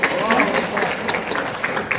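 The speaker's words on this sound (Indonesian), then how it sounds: "Tepuk tangan." Applause from a crowd at a political education gathering, dense clapping at moderate volume, with some voice activity mixed in.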